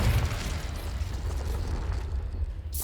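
Confringo fire spell blast exploding in the Hogwarts Legacy video game, a loud, deep, rumbling burst that rolls on for several seconds and ends with a brighter crackling hit.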